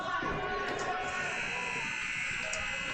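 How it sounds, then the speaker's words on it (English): An ice hockey arena buzzer marks the end of the second period in a 12U youth game, a loud continuous blare that fills the rink for several seconds over crowd noise. "Finally get the buzzer for end of the second"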